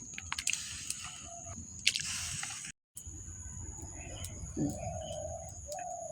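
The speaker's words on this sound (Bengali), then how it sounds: "দেখেন বন্ধুরা, কত সুন্দর করে ঘুঘু ডাকতেছে।" A spotted dove coos in soft, low, rhythmic notes outdoors on a morning, fairly close, against faint chirps from other birds, light clicks and a brief dropout.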